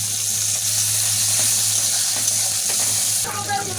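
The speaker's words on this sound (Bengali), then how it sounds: "দিয়ে ভালো করে ভেজে নেব" Onions and chopped tomato for chicken kosha frying in a pan, giving a steady, close sizzle with a faint hum underneath and brief stirring scrapes near the end.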